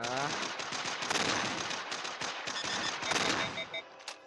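Sustained automatic gunfire in the video game Mass Effect Infiltrator on Android, loud and continuous with rapid overlapping shots and impacts through the whole stretch.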